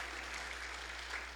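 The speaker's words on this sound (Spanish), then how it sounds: "Fuerte el aplauso" Warm crowd applause at a church service fills the whole short stretch, a dense, even clapping from a congregation welcoming online listeners.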